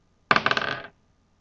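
A die rattling as it is handled, a quick burst of bright clicking impacts lasting about half a second, close and loud against otherwise quiet.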